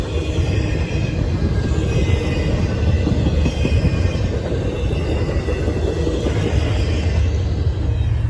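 A freight intermodal train carrying UPS trailers rumbles past close by in Northwood, Ohio, a loud continuous roar of wheels and cars with faint metallic squeals, no voices.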